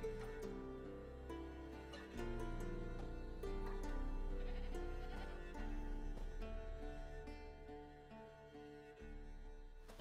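A goat tied to a stake as forktail bait in The Witcher 3 bleats again and again, the cries fairly close and steady over a continuous game ambience with no talking.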